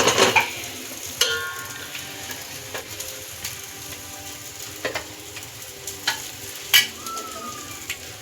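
Masala sizzles and fries in hot oil for a tribal-style village mutton chaap, a steady close crackle broken by sharp clinks and scrapes of stirring.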